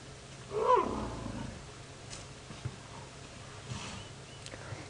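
A low rumbling call from an elephant matriarch rises briefly and fades, followed by faint distant outdoor safari ambience at sunset with scattered soft knocks.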